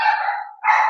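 A dog barks near a door during a video-call presentation, two loud sustained barks or yelps close to the microphone with a brief gap between them.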